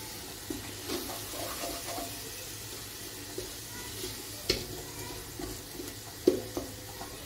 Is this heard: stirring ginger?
yes